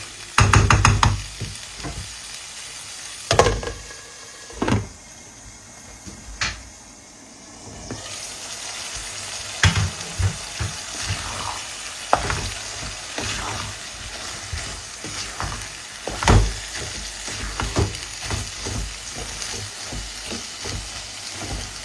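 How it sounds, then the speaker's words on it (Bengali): Chickpeas sautéing slowly in a pan over low heat, a soft steady sizzle broken by repeated scraping stirs and clanks, close and fairly loud, with no talking. "আস্তে জালে এইভাবে এটাকে কষাবো"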